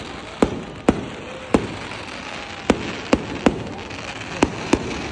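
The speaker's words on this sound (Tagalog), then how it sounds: "tignan natin ang fireworks dito sa Tagaytay" Fireworks bursting over Tagaytay, eight or so sharp distant bangs spaced irregularly across a steady outdoor background hiss. No voices are heard.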